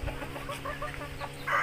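Several chickens on open ground with no fence cluck in short bursts as they scatter, the calls fairly close and overlapping, with one brighter squawk near the end.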